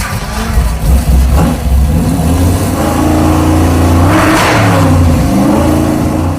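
A fresh 360 V8 in a Mopar Muscle Truck crackles to life and revs hard, loud and close, with a rough, throbbing roar rising and falling as the throttle is worked.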